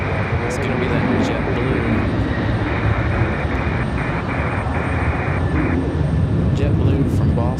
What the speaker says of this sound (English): JetBlue from Boston. 1 hour and 32 minutes of flight time for this A220